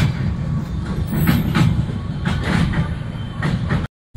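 The 12311 Netaji Express rumbles across the old iron bridge over the Yamuna near Delhi, a loud, close, steady roar with rhythmic clickety-clack of wheels, cutting off abruptly at the end.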